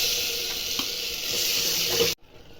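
Onion, garlic and ground ridge gourd masala frying in a pan for ridge gourd sambar, a steady loud broadband sizzle with faint stirring clicks that drops away sharply near the end.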